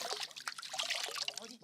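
Well water trickles and splashes in a brief close stream, with a voice talking over it.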